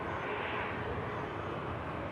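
A Saudi airliner arriving at the airport after a flight from Jeddah: a steady, broad jet roar that holds evenly at moderate distance, with no talking.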